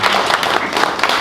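Brief burst of crowd clapping from medical colleagues at a SAMA 2019 event, dense and fairly loud, ending abruptly after about a second.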